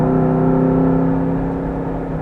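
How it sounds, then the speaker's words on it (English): A Jeep JK with a swapped LS V8 engine drones loudly from inside the cabin under hard acceleration, a steady low engine hum with the pitch sliding slightly as the transmission downshifts. "if I accelerate hard enough, you're going to see the transmission downshift"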